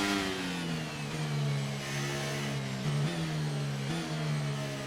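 A Formula 1 race car engine in F1 23 drones loudly and steadily at Imola, with small rev changes and gear shifts, and no talking.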